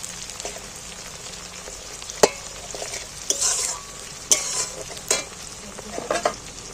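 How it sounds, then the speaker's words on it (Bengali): Onion and tomato fry in hot oil in a pan for a home-style chicken curry, giving a steady sizzle broken by sharp scraping clanks of a stirring spoon, close up with no talking. "একটা টমেটো দিয়ে দিচ্ছি তেলের মধ্যে। দেখো পেঁয়াজটা অনেকটাই ভাজা হয়ে গেছে"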